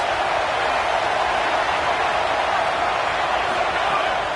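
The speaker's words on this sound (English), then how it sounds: "This crowd trying to make life miserable for this offense." Stadium crowd in a college football video game, LSU facing SMU, a constant loud roar of many voices pressuring the offense, steady and unbroken throughout.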